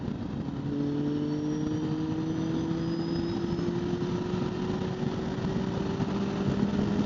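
A Suzuki 1250FA inline-four motorcycle rolls on throttle in 4th gear from highway speed, its engine note climbing smoothly and steadily under constant wind rush, loud and continuous.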